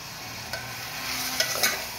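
Mutton is stirred with salt in a pot, a soft steady sizzle with a few scraping ladle strokes close by, no voices.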